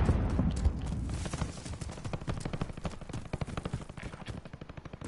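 Video game gunfire, rapid bursts of shots crackling close and loud, turning into sharper, more spaced automatic fire toward the end.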